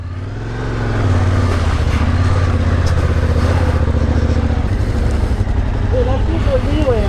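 A Yamaha Tenere 700 motorcycle creeps slowly along a muddy trail. Its low, throbbing engine note is close and steady, and a person's voice is heard over it.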